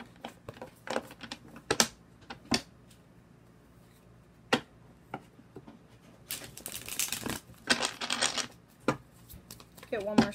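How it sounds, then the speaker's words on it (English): Tarot cards are shuffled close by in crisp riffling bursts between scattered soft clicks and taps, with a brief voice near the end. "One more shuffle after this."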